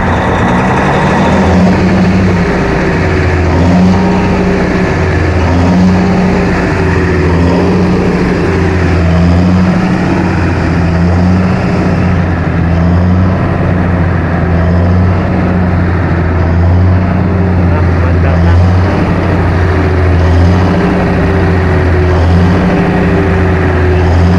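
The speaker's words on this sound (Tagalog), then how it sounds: "PI generator Cummins, yung nasira ang camshaft." Cummins PI 625 kVA generator with a damaged camshaft, running loud and close with a steady deep engine drone and an even repeating low pulse for the whole stretch, no voices.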